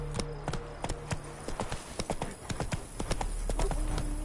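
Roach, a horse in the video game The Witcher 3, trots with rhythmic clip-clopping hooves over a constant low rumble, the steps close, fairly loud and evenly spaced throughout.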